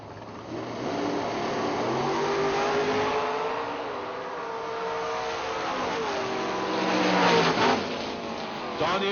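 Two 1968 Camaros launch side by side down a drag strip at a bulb-class nationals event, engines roaring loud and steady throughout with a rising rev near the end, an announcer's voice faint beneath.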